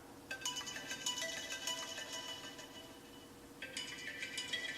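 A ringtone plays from the speaker of an iPhone 7 that spent 24 hours submerged in Sprite, a bright repeating melody with a slightly dull tone, continuing throughout with a brief pause before it resumes.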